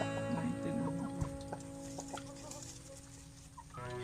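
Rhode Island Red hens cluck softly and steadily in a laying coop, several birds making overlapping close clucks and low calls against a constant background hum.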